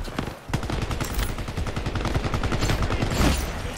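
Rapid gunfire in the shooter game Shatterline, a dense continuous barrage of close, loud shots with a brief pause near the start.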